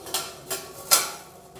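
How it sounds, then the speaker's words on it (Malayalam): A steamer tray is set into an idli pot of boiling water, giving three short metallic clinks and knocks spaced about half a second apart, the last one the sharpest, with no voices. "ഈ ഒരു സമയം നമുക്കിതിലേക്ക് തട്ട് വെച്ച് കൊടുക്കാം."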